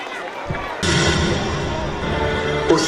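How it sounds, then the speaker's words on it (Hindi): Audience at a school cultural festival bursts into applause for student dancers from classes seven to nine, a dense, steady wash of clapping that starts abruptly and fills the hall, with a voice over it at the start. "तालियों के साथ स्वागत कीजिए।"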